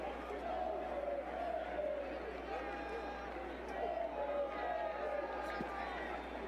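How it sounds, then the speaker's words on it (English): A large stadium crowd at Albertson Stadium in a college football video game, a steady broad roar of murmuring fans with occasional swells, running continuously under a commentator's voice. "Crowd starting to file out here at Albertson Stadium."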